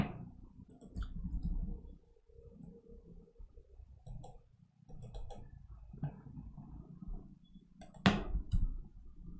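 A computer mouse clicking in a quiet room, a few sparse, faint clicks spread out over low background rumble, with one sharper click near the end.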